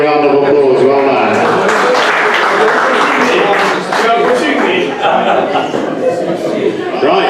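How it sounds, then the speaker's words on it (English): An auction crowd gives a round of applause after a winning bid, with scattered clapping mixed into loud nearby talk and chuckling throughout. "Give Nasir and the Lodium guys a big round of applause."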